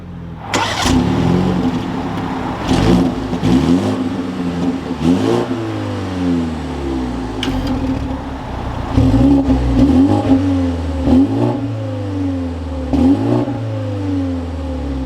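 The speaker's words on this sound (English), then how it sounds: "But let's fire this 330i back up." A 2023 BMW 330i engine cranks and fires up, then revs repeatedly in sharp rising and falling bursts before settling to a steady idle, close and loud throughout.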